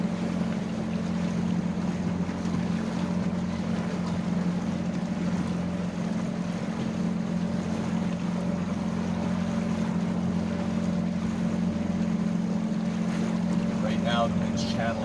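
A cruising boat under way in open water, with a steady droning engine hum and constant wind rushing across the microphone, loud and unbroken throughout.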